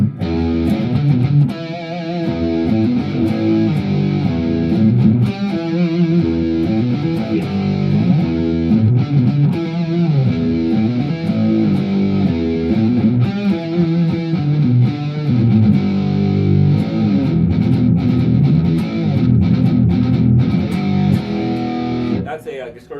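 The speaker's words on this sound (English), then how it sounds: "That's a distortion sound I made on the Spark." An electric guitar plays chords and riffs through the distortion setting of a Spark modeling amp, miked where a Blackstar amp had been, with a loud, sustained, crunchy tone throughout.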